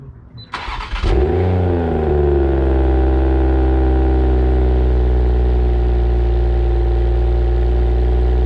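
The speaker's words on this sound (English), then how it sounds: "Now it's time to get the first cold start." A 2021 Toyota Supra fitted with an aFe 3-inch catback exhaust cold starts: a brief starter whir, then the engine catches with a loud flare and settles into a deep, steady, droning idle, close and alone.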